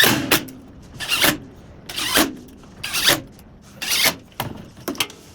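Screws are driven into the wooden sliding table jig for a bandsaw in six or seven separate bursts, each a short whirring grind, with quiet gaps between them.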